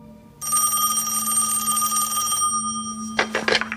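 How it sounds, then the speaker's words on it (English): A house telephone bell rings in a parents' home in Hickory, a bright sustained electronic ring after a brief pause, followed by a few short clattering bursts. "she receives a phone call at her parents' house in Hickory"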